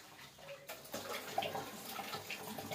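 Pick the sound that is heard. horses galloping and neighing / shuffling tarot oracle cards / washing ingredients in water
washing ingredients in water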